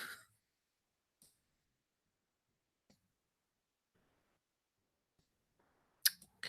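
Sparse computer mouse clicks, a few faint isolated ticks spaced seconds apart in a quiet room, with a louder click near the end.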